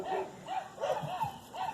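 A dog gives a string of short, quick barks and yips at a campsite as a horse goes by, fairly faint and somewhat distant, with a bark every few tenths of a second.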